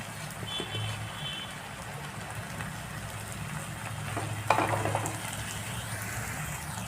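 Soaked puffed rice sautéed with onion and turmeric powder in a pan, with a soft continuous sizzle and occasional stirring clicks and a brief louder clatter, fairly quiet throughout.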